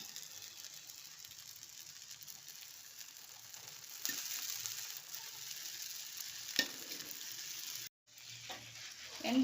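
A coconut-stuffed wheat flatbread frying in ghee on a low flame gives a soft, even sizzle close by, rising slightly midway and cutting out briefly just before the end.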